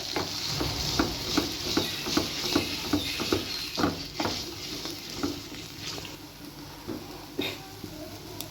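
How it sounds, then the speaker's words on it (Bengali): A spoon is stirred continuously through a sizzling carrot puree for a sweet in a pan, giving rhythmic scraping strokes about twice a second over a steady hiss of frying. "অনবরত অনবরত নাড়তে হবে যেন নিচে লেগে না যায়"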